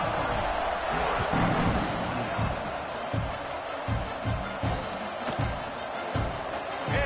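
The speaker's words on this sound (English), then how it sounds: "this crowd now ready to get behind them" Stadium crowd in a college football video game, Oklahoma versus Nebraska, roaring at kickoff: a loud, constant wash of cheering with rhythmic low thumps pulsing through it, like stomping or drumming.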